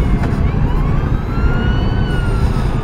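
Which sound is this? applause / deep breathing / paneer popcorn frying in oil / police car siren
police car siren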